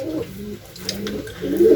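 A pigeon gives a short, soft rolling coo close by, pausing briefly before cooing again.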